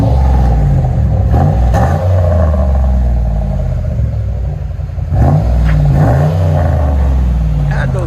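A 2002 Lincoln Continental with a 4.6L V8 and dual exhaust with the mufflers deleted revs loudly nearby, its deep rumble rising and falling in several throttle blips, with people speaking over parts of it.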